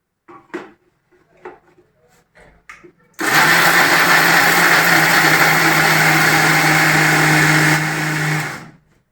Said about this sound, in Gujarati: ધીમે ધીમે કરતાં આપણે બધું જ તે જારમાં દળી લેવાનું છે